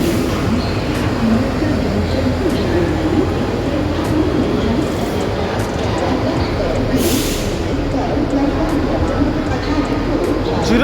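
Train rumbling steadily into a busy railway platform at Chhatrapati Shivaji Maharaj Terminus, a loud continuous low roar with sharp clanks and a brief hiss, pigeons and people chattering nearby.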